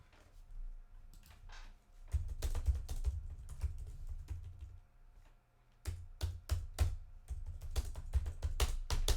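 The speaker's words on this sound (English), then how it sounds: "I guess I'm angry typing." Hard, rapid typing on a computer keyboard in uneven bursts of dense key clicks with low thumps from heavy strokes, easing off briefly in the middle before a forceful final flurry.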